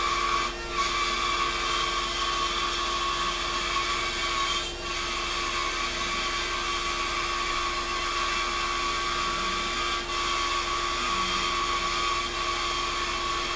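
A DIY CNC mill cuts into wood with a steady, loud, high-pitched machine whine and hiss, running without a break for the whole stretch, with only slight dips in intensity.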